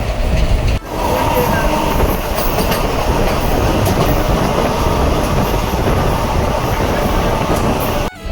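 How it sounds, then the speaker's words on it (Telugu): Train running on rails near Vijayawada, heard from on board as a loud, steady roar of wheels with rattling carriage noise throughout, close and continuous. "సో ఇప్పుడు విజయవాడ దగ్గరలో అయితే ఉందండి ట్రైన్"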